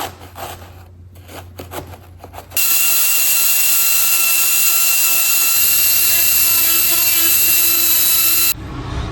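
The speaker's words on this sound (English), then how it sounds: "Use the Dremel to cut out some of these circles" An air-powered Dremel cutting out insulation inside the cab of a Ford F100 truck spins up to a loud, steady, high-pitched whine after a few quiet seconds, holds it for about six seconds, then stops.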